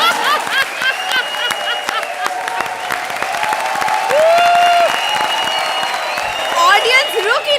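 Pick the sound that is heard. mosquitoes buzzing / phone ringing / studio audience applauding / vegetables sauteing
studio audience applauding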